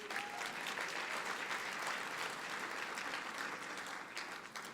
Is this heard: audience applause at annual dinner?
yes